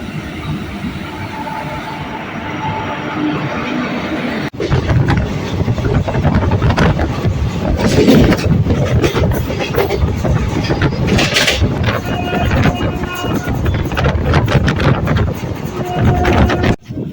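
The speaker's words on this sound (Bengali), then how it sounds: "আসছে কাটোয়া তার স্পেশাল প্যাসেঞ্জার যেটাতে করে আমি যাব" A Katwa passenger train rumbles in, its noise swelling abruptly and staying loud with rattling and wind buffeting, after a quieter stretch of ambient hum.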